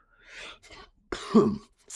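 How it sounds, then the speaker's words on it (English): A close, single harsh cough with a rough throat-clearing quality, preceded by a short breathy exhale, alone in a quiet room. "I got a little cough"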